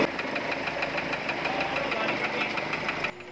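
A Hyundai Tucson diesel engine with an automatic transmission runs steadily just after starting in a mechanic's shop, with a loud, continuous rhythmic knock and clatter that cuts off sharply near the end.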